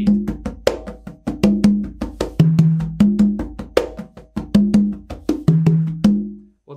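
Conga drums play a basic tumbao pattern for Cuban son: crisp open tones and slaps repeating in an even, looping rhythm, close and loud, heard alone.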